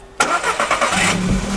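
A car engine cranks and catches, then settles into a steady running rumble, close and fairly loud.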